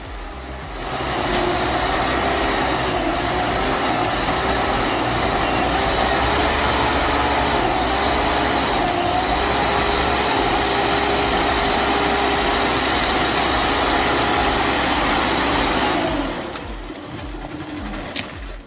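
An LKT-81 turbo forestry machine engine running, a loud continuous diesel roar with a steady droning hum that holds level, then fades away near the end.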